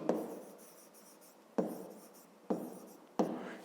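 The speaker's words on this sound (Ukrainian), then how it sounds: "Записуємо тоді перше. Ну і записуємо числа." Numbers written by hand for a fifth-grade maths exercise, pen strokes scratching in four bursts, each a sharp onset that trails off, close and fairly quiet with no talking.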